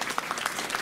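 Brief, dense burst of audience applause at a Buddhist temple's vegetarian fundraising banquet for building a monastery's main hall, steady clapping with no voices.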